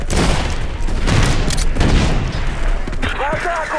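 Grenade explosion in the video game Battlefield 2142, a loud booming blast with dense gunfire-like crackle sustained across the clip, ending with a short burst of squealing electronic sound.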